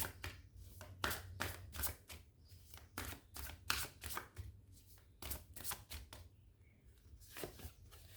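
Oracle cards being shuffled by hand, a quiet, rapid run of papery riffles and flicks in irregular bursts over a low background hum, with no talking.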